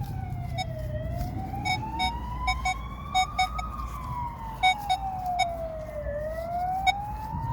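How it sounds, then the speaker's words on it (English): A passing ambulance's wailing siren sweeps slowly up and down in pitch, steady and fairly loud, over low road rumble with a few clicking noises on top. "they made it an ambulance route, and all you hear all day long is sirens"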